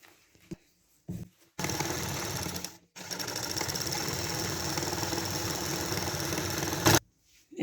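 A sewing machine stitches a petticoat seam in two bursts, a short run then a long steady run of about four seconds, rattling close and loud, with brief quiet pauses between and after.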